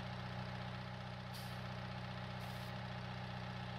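A tractor engine in Farming Simulator idles steadily and close, a constant low diesel rumble with two brief hissy bursts partway through, no talking.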